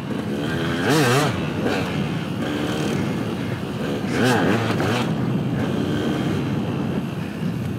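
A motorcycle, recently fitted with new brake pads, is being ridden. Its engine drones steadily over constant wind rush, with two rising revs swelling louder, one early and one midway.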